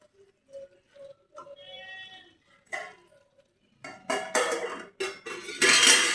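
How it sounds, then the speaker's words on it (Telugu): Chicken gongura curry is stirred in a pan, with a spoon scraping and clattering against the metal in rapid, close strokes. Quieter tones and short noises come first, before the stirring. "మొత్తం ఈ చికెన్ మొత్తం కలదీసుకోవాలి, మొత్తం కలుపుకోవాలి."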